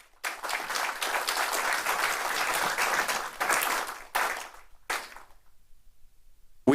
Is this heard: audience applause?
yes